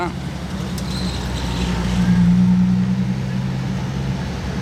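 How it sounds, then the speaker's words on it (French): A Ferrari Enzo and a LaFerrari drive past on a Monaco street, a low engine drone that swells and then fades amid traffic noise, with people talking over it. "de pouvoir voir une Ferrari Enzo et une LaFerrari passer comme ça en random"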